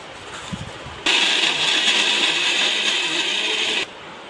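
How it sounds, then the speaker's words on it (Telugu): A kitchen mixer grinder pulverises flattened rice (poha) with jaggery into powder, a loud steady whine that starts abruptly, runs about three seconds without letting up, then stops. "ఇలా బాగా కలుపుకొని మళ్ళీ ఇంకొకసారి మిక్సీకి వేసుకోవాలి ఫ్రెండ్స్"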